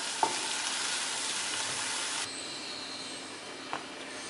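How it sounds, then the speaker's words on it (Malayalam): A banana leaf wilts on a hot pan for Kerala prawn pollichathu, giving a soft, steady sizzling hiss that drops abruptly midway. A couple of faint clicks sound near the start and near the end. "നമ്മൾ ചെമ്മീൻ പൊള്ളിക്കാനുള്ള വാഴയില ഒന്ന് വാട്ടിയെടുക്കുകയാണ്."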